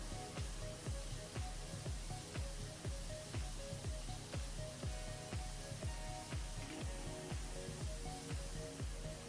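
Pressure washer spraying in Powerwash Simulator, a steady hissing jet that pulses in a regular rhythm, loud and close throughout with no talk over it.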